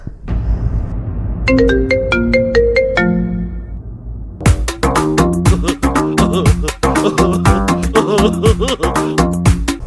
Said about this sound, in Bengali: এই কপিলে ফোন দিছে র